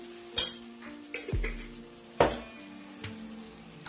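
Spoon stirring a salted kadhi pakora mixture in oil in a pan: several sharp metallic scrapes and knocks spaced out over a soft background sizzle, close by and without speech.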